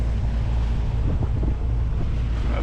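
A wind gust at sea while sailing, a steady, low, rumbling blast of wind buffeting close by, mixed with water and boat noise and no talking.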